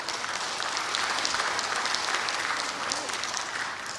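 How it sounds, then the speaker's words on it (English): Conference audience applause at the Asia Pacific Geospatial Forum for a panel, with sustained, even clapping from a sizable crowd for about four seconds and no voices over it. "it leaves us with just enough time for a nice round of applause for these panelists"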